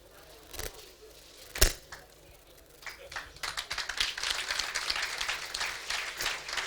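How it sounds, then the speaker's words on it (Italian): An audience at a Sardinian volleyball gala applauds the Borore men's team promoted to Serie C, with sparse early claps that swell into steady, dense clapping from a crowd. "un grosso applauso per la pallavolo Borore promossa in C maschile"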